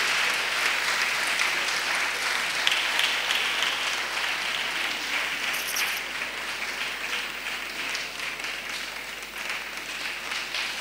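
A congregation at a national missionaries' retreat applauds continuously, with dense, sustained clapping and faint cheering from a large crowd, steady and moderately loud throughout.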